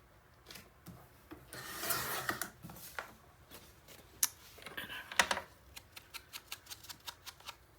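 A scrapbook album page edge gets trimmed with quiet rubbing and scraping strokes, followed by a run of light rhythmic ticks and clicks, faint and close.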